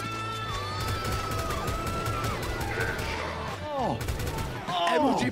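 Gunfire in GTA 5 crackles in bursts over a busy game soundscape with engine drone and music, growing heavier toward the end amid sweeping whistles and impacts.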